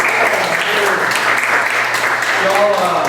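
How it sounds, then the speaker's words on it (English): Audience applause at a tavern concert of Revolutionary-era Gloucester music in a museum, steady dense clapping filling the room throughout, with faint voices mixed in. "But one more round of applause for the awesome ladies."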